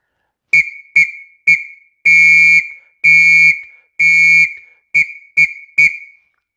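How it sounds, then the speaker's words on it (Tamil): A scouting whistle sounding the SOS pattern: three short blasts, three long blasts, then three short blasts, loud, shrill and close, with silence between each blast. "எஸ்ஓஎஸ் அப்படிங்கிறதுக்கான whistle three short blast three long blast three short blast"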